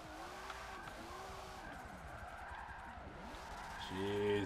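A Nissan 240 drift car in Forza Motorsport 7 slides through corners, its tires squealing in long wavering tones over a steady engine drone that swells louder near the end.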